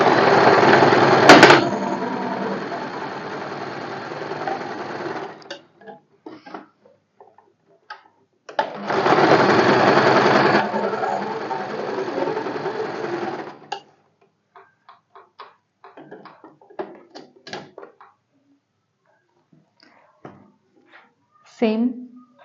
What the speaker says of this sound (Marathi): सेम त्याच पद्धतीने इथे पण स्टिच करून घेते.